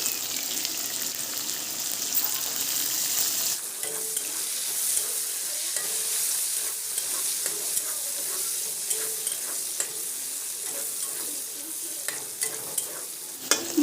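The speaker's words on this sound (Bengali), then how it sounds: "তাই গাজরটাকে আগে ভেজে নেবো একটু ভালো করে" Chopped carrots and beans stir-fried in a hot pan for restaurant-style chicken chowmein, a steady broad sizzle with frequent scraping stirs and utensil clicks, loud and close throughout with no talking.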